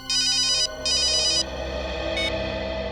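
A telephone rings in two bright electronic bursts, followed by a brief higher chirp, over a faint background hum.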